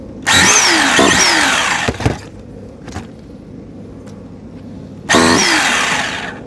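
An ARGUS K3 nitro engine in a TLR 8ight X Elite RC car cranks and catches in two loud, high-pitched buzzing bursts separated by a quieter gap with a couple of brief knocks, close by and with no talking.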